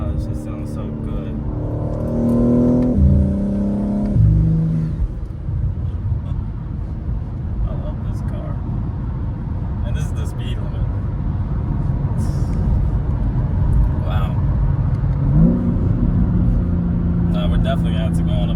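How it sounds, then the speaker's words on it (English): BMW G80 M3 with a valve-controlled exhaust rumbles steadily, rising in pitch with revs near the start and again toward the end, with faint crackling burbles over a constant low engine drone. "Definitely have to go on a POV drive because wow, the burbles, everything."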